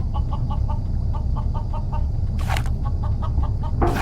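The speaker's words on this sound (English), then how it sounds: "here's the rooster I smuggled on board" A rooster in the Journey To The Moon adventure game clucks in quick repeated bursts over a steady hum, close and clear, with a couple of short rustling noises.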